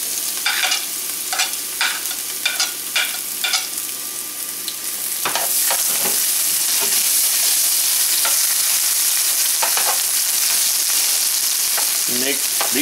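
Garlic and ginger hit a hot pan with a sudden loud, steady sizzle, after a stretch of stirring and scraping. The frying continues close up and unbroken, with occasional spatters.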